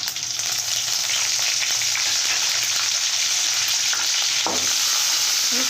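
Crushed garlic, dried red chillies and curry leaves fry in hot oil for a tomato pickle, giving a dense, continuous close sizzle with a few soft stirring scrapes and no speech.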